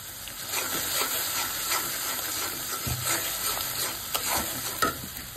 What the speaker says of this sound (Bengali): এখানে মশলাগুলো কষিয়ে নিচ্ছি আর কিছু গরম মশলা দিয়ে দিচ্ছি